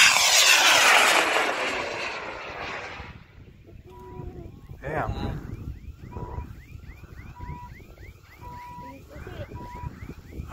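High-power L2 model rocket launching, a loud roaring whoosh up close that fades quickly over a few seconds, followed by quieter outdoor sounds with repeated electronic beeps.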